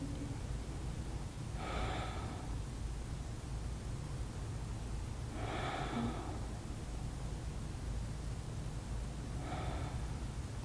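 Slow breaths during a seated yoga twist, three soft airy inhale-exhale swells spaced a few seconds apart over a steady low background hum, close and quiet.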